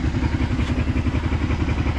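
A Kawasaki Brute Force 650 ATV engine idles steadily and loudly up close, with an even, rapid thumping pulse and a little mechanical clatter, no voices.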